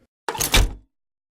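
A wheelchair recorded as raw sound-effect material for creature stomps gives one short, close, loud rolling thunk with a heavy low-end body, lasting about half a second, with nothing else around it.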